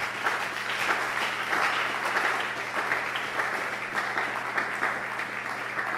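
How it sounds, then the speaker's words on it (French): A congregation at a church service applauding steadily, a dense, continuous wash of many hands clapping at close range for several seconds without pause. "Est-ce que tu peux acclamer Dieu si tu entends?"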